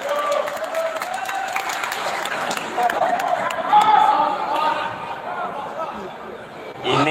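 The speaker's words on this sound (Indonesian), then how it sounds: "Tepuk tangan untuk moderator." An audience at an Islamic religious talk applauds the moderator with a steady, moderately loud wash of clapping, with crowd chatter and a few voices mixed in, swelling slightly midway before easing off.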